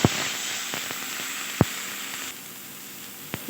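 Spice paste with green chilies sizzles in a pan for a fish bhuna, a soft continuous hiss broken by a few sharp pops and light stirring clicks, close and fairly quiet.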